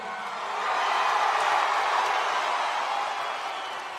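A large WWE SmackDown arena crowd roars steadily, a broad sustained wash of cheering that swells early and holds loud throughout.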